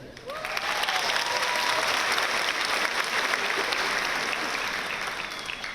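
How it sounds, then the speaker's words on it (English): Steady applause from a sizable crowd at a high school graduation ceremony, dense and continuous clapping that holds at an even level for several seconds. "I also want to give a round of applause to this year's valedictorian, Alexandra Daly."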